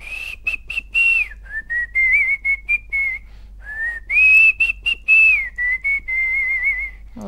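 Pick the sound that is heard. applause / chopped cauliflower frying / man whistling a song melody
man whistling a song melody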